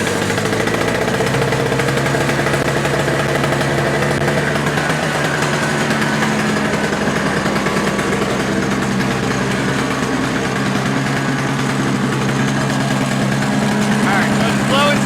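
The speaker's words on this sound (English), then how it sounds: "we're going to go ahead and pull start it, and I'm going to show you what I'm talking about as far as the running issue" A Toro snowblower engine running roughly after a pull start, loud and continuous with a rattling, uneven chug and a droning pitch that wavers, close up with no talk.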